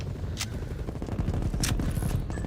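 Bursts of rapid gunfire from an AK-style rifle in a first-person shooter game, dense and continuous over a low rumble, with a couple of sharp transient cracks standing out.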